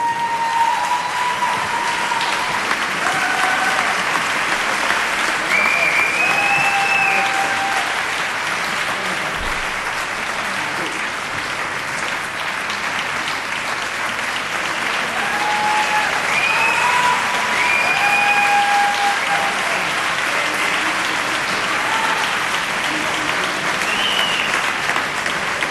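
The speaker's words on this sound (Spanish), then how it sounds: "¡Un aplauso para ellos!" An audience at a music awards gala in Zaragoza's Sala Luis Galve applauds steadily and loudly for the whole stretch, a dense wash of many clapping hands, with a few faint whistles rising above it.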